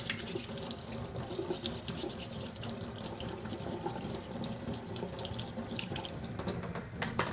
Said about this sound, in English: let's rinse off the plate. Rinse off my spoon first.